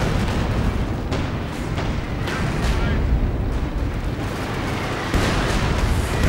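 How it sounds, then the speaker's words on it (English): A heavy rocket barrage from the Company of Heroes 2 war game pounds continuously, a dense roar of overlapping explosions and booms, with a commentator's voice running beneath. "heavy rocket barrage going in return"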